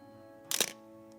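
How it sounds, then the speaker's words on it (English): Shutter release of a Minolta XG7 electronic 35mm SLR camera: a single crisp mechanical snap-clack near the mic, with a faint click just after, alone in a quiet room. "I love the shutter sound on this camera."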